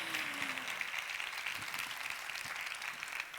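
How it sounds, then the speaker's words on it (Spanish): An audience at a women's event in Castellón applauds steadily, a dense continuous clapping that holds at an even level for several seconds with no speech. "este aplauso también es para todas ustedes"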